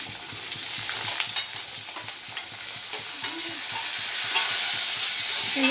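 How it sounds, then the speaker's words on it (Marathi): Chopped tomatoes hit browned onions in a pan for dhaba-style palak paneer, giving a close, steady frying sizzle with quick stirring scrapes at first, then building toward a fuller hiss. "आता यामध्ये आपण टोमॅटो जे कट करून घेतले होते दोन मोठ्या आकाराचे टोमॅटो ते आता टोमॅटो यामध्ये ॲड करून घेणार आहोत"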